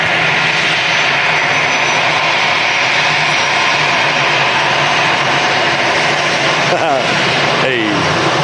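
An EasyJet airliner at Manchester Airport produces a loud, steady jet engine roar that fills the whole clip. Its rumble is broad and constant, and people talk near the end.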